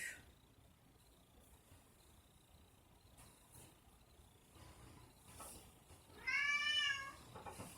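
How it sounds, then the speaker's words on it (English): A house cat gives a short, clear meow late on, close to the microphone, after a quiet stretch of faint room sounds and small movements. "I have to go take care of a crying cat"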